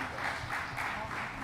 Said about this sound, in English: let's give a round of applause to the Africa Union, South Africa, Zambia, and Zimbabwe